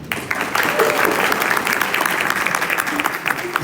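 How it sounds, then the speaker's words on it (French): Audience applause fills a women's creative and production event, steady and dense clapping from a crowd throughout, moderately loud with no one speaking over it. "Elle, je vous prie encore de l'applaudir, Jeanne."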